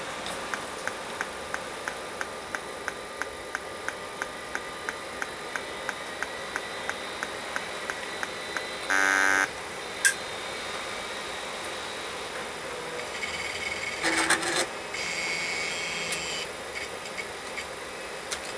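Old SCSI hard drive spinning up and running, heard as a steady whirring hum with a faint regular ticking, plus a few brief louder mechanical bursts, close and quiet, with no voices.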